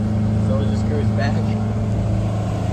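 Inboard engine of a 1988 StingRay Supersport boat cruising with a dirty carburetor, a steady loud low drone that sounds held back and sluggish, with voices heard over it.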